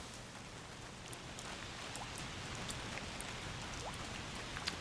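Rainfall in the video game A Plague Tale Requiem, a constant soft hiss of falling rain with scattered faint drop ticks, steady and moderately quiet throughout with no talking.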